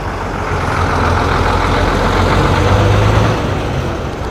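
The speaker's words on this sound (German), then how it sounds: "So, der nächste fährt jetzt auch raus hier." An old Ikarus bus pulls away from a vintage vehicle meet in Chemnitz, its heavy diesel engine rumbling loud and close, swelling then easing as it drives out.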